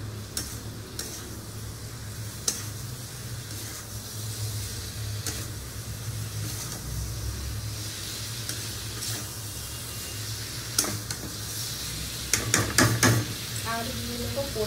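Spice paste sautéing with a splash of water for a no-onion, no-garlic biryani, stirred in the pan with a soft continuous sizzle and scattered scraping clicks of the spoon, growing busier near the end.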